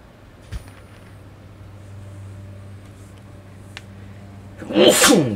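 A single sneeze bursts out loudly near the end, following a few seconds of quiet room tone with a low steady hum, during a Destiny 2 gaming session.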